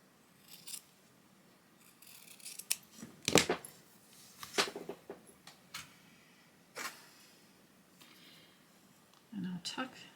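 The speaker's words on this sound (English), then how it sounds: "I think I'm going to snip a bit of this off." Scissors snip through a piece of trim for a junk journal cover, a few quick close cuts spaced out, with soft handling rustles and a voice talking quietly between them.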